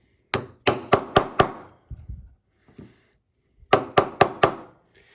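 Quick bursts of light hammer taps on a chisel, a run of four or five close strikes, a few softer knocks, then another rapid group of taps.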